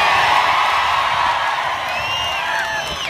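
A large crowd at a Lok Sabha election political rally in Solapur cheers and whoops continuously, a loud dense roar of many voices with shrill whistles and yells rising above it.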